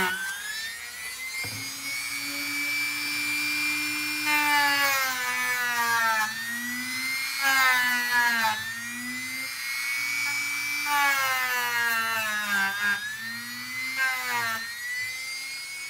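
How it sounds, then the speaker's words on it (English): A power drill removing a security screw from an Atari Super Pong whines steadily for a long stretch, its pitch rising and falling in repeated surges as it bites and eases, close by with no talking. "So you actually just put that in a drill and start drilling."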